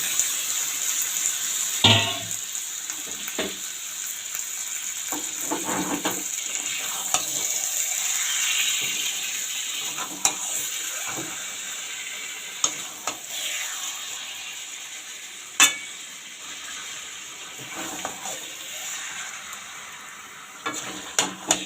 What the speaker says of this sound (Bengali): গ্যাসটাকে লো ফ্লেমে রেখে মাংসটাকে এভাবে কষিয়ে নেবেন ভালো করে